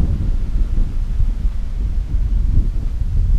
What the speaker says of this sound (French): Oui, il y a du vent.